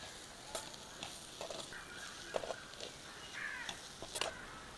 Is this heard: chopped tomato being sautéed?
yes